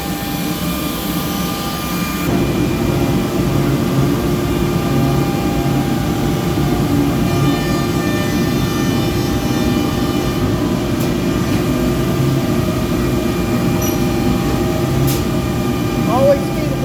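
Brandt KDF 540 edge bander running with its dust collector, a loud steady industrial drone and whine that swells after a couple of seconds and holds continuously, with a faint voice over the machinery.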